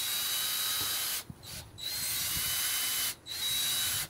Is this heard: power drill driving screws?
yes